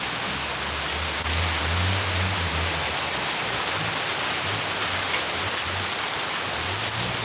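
Steady heavy rain pouring down, a loud continuous hiss with low rumbling gusts underneath.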